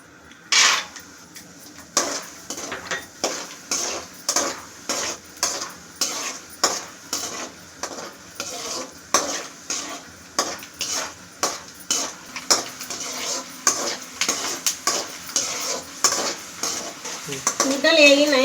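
Ingredients frying in hot oil for lemon rice, a loud sizzle under rhythmic metal-on-pan stirring scrapes that repeat roughly every second, close up, no speech.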